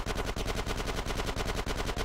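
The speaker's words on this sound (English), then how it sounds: "Get some suppressing fire in there!" Rapid automatic gunfire in the video game Grand Theft Auto San Andreas, a dense, loud stream of evenly spaced shots in an unbroken burst.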